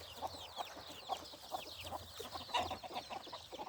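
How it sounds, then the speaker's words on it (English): A hen clucks repeatedly in a steady, close, moderately loud rhythm while her chicks peep in quick high bursts throughout, with no talking. "when you hear a chicken where you're not supposed to hear a chicken"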